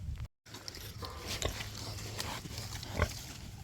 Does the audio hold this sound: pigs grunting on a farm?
yes